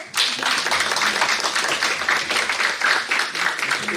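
Applause from the audience at a legislative anti-drug movement event, a full burst of many hands clapping that starts abruptly and holds steady and fairly loud throughout.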